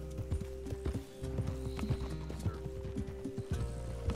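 Horse hooves clip-clop at a steady riding gait in Red Dead Redemption 2, close and continuous, with a brief whinny and faint tack rattles over a low ambient drone.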